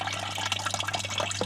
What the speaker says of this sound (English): so you can see the pumps recirculating.